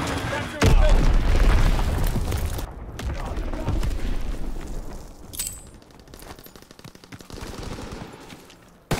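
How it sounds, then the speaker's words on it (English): Mortar explosions and gunfire in a World War II battle in Call of Duty WW2, a heavy boom at the start followed by dense, continuous bursts and rumbling blasts, with shouting voices over the combat. "Enemy mortar fire incoming!"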